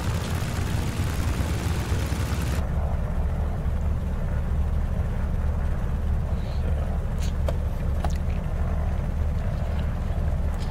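Beechcraft D18S twin-engine aircraft taxiing in Microsoft Flight Simulator 2020, a steady low engine drone that stays loud and continuous throughout, with a brighter layer dropping away early on and a few faint clicks later.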